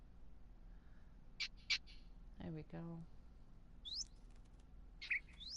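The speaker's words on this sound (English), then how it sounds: "Kind of completes it, putting these birds in here." Game birds placed in a Minecraft build give a few short high chirps and brief flutters, spaced apart across the moment, with a voice speaking briefly in the middle.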